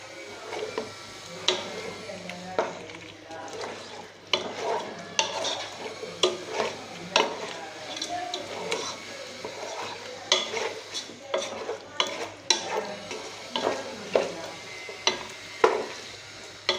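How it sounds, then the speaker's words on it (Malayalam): Chicken pieces being stirred and turned in a pan for chicken curry, giving repeated scraping and clinking strokes over a low sizzle, close and steady with no talk. "ചേർത്ത് നന്നായിട്ട് എല്ലാ ഭാഗത്തും ഇളക്കി കൊടുക്കണം"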